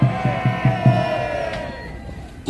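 Large crowd at an outdoor protest rally in front of Gwacheon police station shouting in unison, rhythmic repeated chant bursts that fade into a sustained roar.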